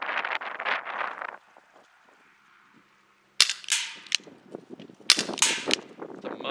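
Elite Force H8R CO2 revolver firing .25 gram BBs: two sharp, loud cracks a few seconds apart, each with a short airy hiss and a clatter after, separated by a quiet stretch, with rustling handling noise before the first shot.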